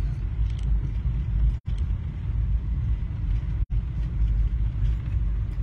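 Low steady engine rumble of a car on the move, heard from inside, with two sudden brief dropouts in the sound.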